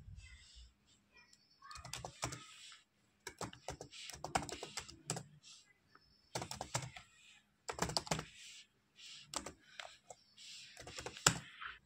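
Steady bursts of typing on a computer keyboard, close and clear clicking in rapid runs broken by short pauses, as a command is entered at a Windows command prompt.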